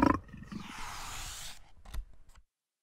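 A big African lion roars as a sound effect in a French children's cartoon story: one long, rough, rumbling roar that fades, followed by a few short trailing grunts.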